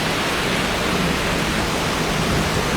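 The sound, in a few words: rain falling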